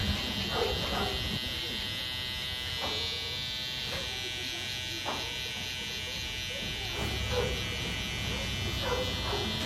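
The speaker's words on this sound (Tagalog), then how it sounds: "First, lagyan nyo rin ng guideline using your trimmer or detailer." An electric hair trimmer buzzes steadily with a high, even hum while cutting hair during a mid taper haircut, close and continuous, with a voice talking faintly underneath.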